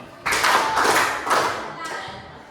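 A classroom group claps together in a short series of sharp, slightly ragged unison claps, close and loud, with the last clap trailing off.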